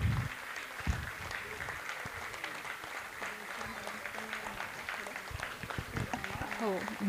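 Applause from the audience at a school's annual function: dense, steady clapping that carries through the whole stretch, with voices mixed in underneath.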